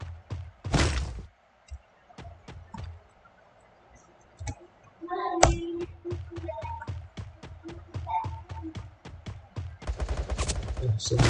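Rapid gunfire from the Free Fire battle-royale game: bursts of automatic shots and single cracks spread across the clip, some loud and close, others sparser, with clicks and game effects between them.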